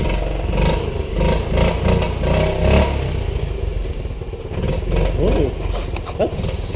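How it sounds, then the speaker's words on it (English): A 1988 Honda Z50R minibike engine, unrun for a long time, sputters as it catches, then revs unevenly up and down; the clatter is close and loud, with a voice speaking over it in places. "All right, I think it's going to fire there."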